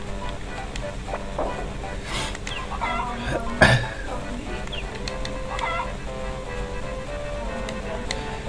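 Chickens in the farming game Harvest Moon: Friends of Mineral Town let out short, chirpy clucks at intervals, with one sharper squawk partway through, under light game music and a person chatting.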